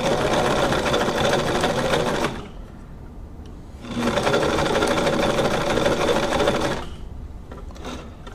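Brother VX757 sewing machine stitching a double zigzag, a loud, close, steady mechanical whir and rattle in two long runs with a brief pause between, then slowing at the end, no talk.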